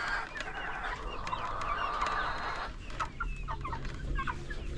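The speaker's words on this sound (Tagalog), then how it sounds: "Mga manok ko na na decal brown." Chickens cluck and squawk repeatedly at close range, a busy flock chattering over steady outdoor background noise.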